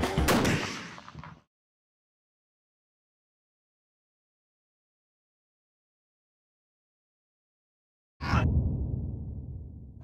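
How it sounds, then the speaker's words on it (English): An RPG rocket launcher fires with a sharp, loud blast and rushing roar for over a second, then a long silence before a second loud blast and a fading rumble. "This is an RPG rocket launcher."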